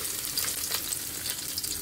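Chopped garlic fries in hot olive oil, a steady close crackling sizzle with small pops, alone and unbroken.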